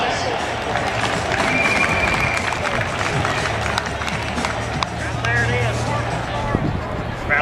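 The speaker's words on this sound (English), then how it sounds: "Everybody give him a round of applause." An audience applauds at a live comedy show, with broad, continuous clapping and crowd murmur under a talking voice, filling the clip at a steady level without a clear peak or ending.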